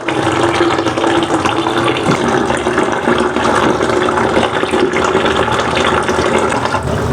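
Tap water gushes steadily into a large bucket meant for soaking a clay cooking pot, a loud unbroken splashing stream with no voices.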